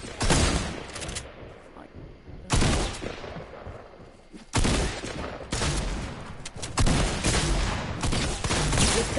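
Video game gunfire in bursts of rapid automatic shots, several loud volleys separated by brief lulls across the stretch.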